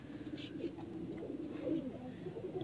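Champion breeder pigeons cooing on a rooftop loft in Punjab, a low, steady murmur of overlapping coos close by, with soft background rustle throughout.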